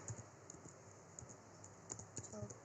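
Linux command typed on a computer keyboard, faint scattered key taps in small irregular clusters under a steady background hum.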